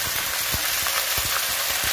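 Ginger garlic paste hitting browned onions in hot oil, giving a steady close sizzle and crackle with soft spoon scrapes and stirring thumps.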